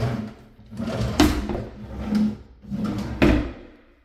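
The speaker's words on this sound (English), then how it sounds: "This drawer's a little harder to open." An old, worn wooden cabinet drawer in a kitchen sticks as it is pulled open, giving several scraping, rattling pulls and knocks close by, with no talking.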